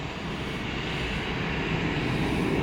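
An arriving airliner passes over Orlando's MCO airport at sunrise, its jet engines making a steady, broad roar that builds slightly across the stretch and carries no voices.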